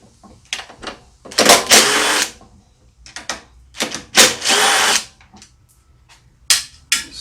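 Powered nut driver spinning out 5/16 bolts on a Briggs and Stratton engine's air filter assembly, several short close bursts of whirring separated by gaps, each run lasting about a second.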